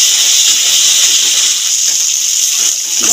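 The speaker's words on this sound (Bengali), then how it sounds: "মশলাটা কষতে কষতে মাঝে মাঝে একটুখানি জল দিয়ে দেবো। জল দিয়ে একটুখানি কষতে থাকবো।" A steady, loud sizzling hiss rises from spice paste frying in oil as a splash of water hits the pan while cooking rohu fish curry. The hiss holds close and continuous with no voices.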